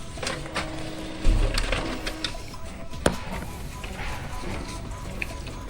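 An inkjet-style printer feeds and prints invitation cards, giving a mechanical whirring and shuffling hum with a clunk early on and a sharp click partway through, close and fairly steady.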